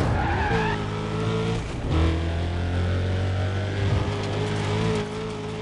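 Car engines roar and tires screech in Need For Speed Undercover, a loud continuous racing drone with engine pitch climbing and dropping and skidding squeals throughout.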